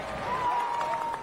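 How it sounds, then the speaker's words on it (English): A crowd outside the Odeon Cinema at a gala film premiere in light November drizzle, cheering and applauding steadily, a continuous moderate roar of voices and claps with a faint sustained tone running through it. "The crowd cheers, their spirits undampened by the light November drizzle."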